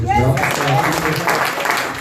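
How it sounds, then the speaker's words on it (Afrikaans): A church audience applauds for livestream viewers, with a dense, steady wash of clapping hands throughout while a voice speaks over it. "Kan ons nie vir ons livestream mense net 'n hande klap gee nie?"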